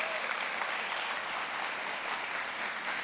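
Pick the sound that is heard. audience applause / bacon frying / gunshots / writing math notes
audience applause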